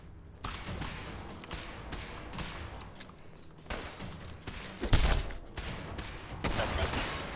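Gunfire in Fallout 4 arrives in irregular bursts of sharp shots and heavy thuds over a low, quiet background, with the loudest blast coming about two-thirds of the way through.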